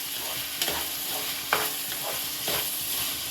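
A pongal mixture is stirred in a pot with a few scraping strokes, each a clear rasp over a soft, steady sizzle. The sound is close and there is no talking.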